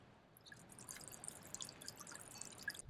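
An AISITIN 3.5W solar fountain pump sprays water through a subtle spiral-pattern attachment, making soft continuous splashing with scattered light drips and trickles, fairly quiet and steady with no voices.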